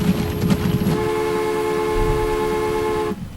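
A locomotive horn honks in a steady sustained blast in the Transport Fever railway game, loud and alone with no talk, then cuts off near the end.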